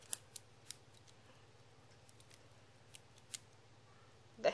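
A plastic Darak toy figure's feet being folded closed from its Battle Gear position, heard as a few sharp, quiet plastic clicks spaced irregularly over a soft background hum, ending with a louder snap.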